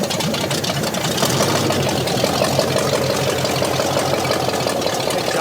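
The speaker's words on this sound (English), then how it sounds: "it sounds like it's got kind of a wicked idle" A scrapped Jeep Cherokee's 360 V8 engine idles steadily, rough, loud and close throughout, with a lumpy low rumble and uneven ticking texture.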